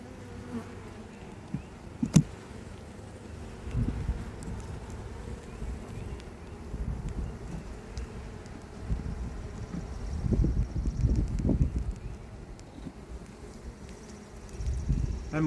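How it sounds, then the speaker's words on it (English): A steady hum of honey bees buzzing close by at their hive, with denser, louder swells of activity now and then and a brief sharp tap early on. "They're busy bees."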